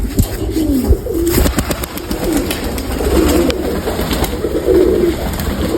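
Pigeons in a Mykolaiv loft coo in low, rolling repeated calls amid a busy, noisy backdrop of scratching, clatter and faint sharp chirps, with no one talking.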